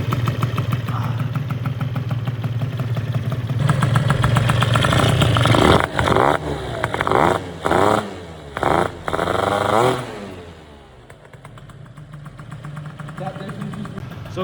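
A 70cc moped engine fitted with a new air filter runs loud and close, a steady idle breaking into several sharp revs in the middle before settling back down, with voices talking over it.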